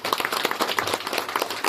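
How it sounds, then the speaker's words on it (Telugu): Applause for Jayakumar at a school reunion gathering of the 2008-09 batch in Ponnamakulapalle, a crowd clapping steadily and fairly close throughout the short burst, with a faint voice underneath. "జయకుమార్కి ఒకసారి క్లాప్స్ చేయండి అందరూ"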